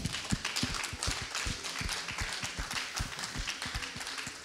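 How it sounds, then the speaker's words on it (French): Applause fills the room during a Papa Wemba tribute broadcast, many hands clapping in a steady, fairly distant patter with sharp individual claps standing out. "Ça mérite des applaudissements."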